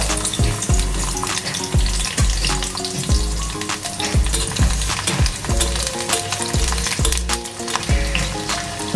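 Chopped garlic sizzles loudly in hot oil as tempering for a drumstick-leaf bhaji, a steady close-up frying hiss broken by regular soft knocks of stirring, with no voices.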